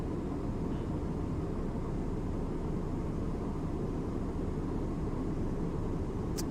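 A Cessna 172 engine drones steadily inside the cabin in flight, a constant loud low roar with broadband rushing noise and no pauses.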